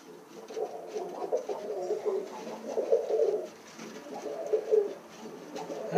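Portuguese tumbler pigeons coo in soft, repeated, overlapping low calls, close by and steady, with light background noise.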